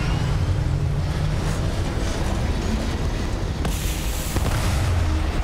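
Spaceship thrusters fire in Starfield, a loud continuous low rumbling roar with deep booming texture that holds steady, then brightens with added hiss near the end, with no voices.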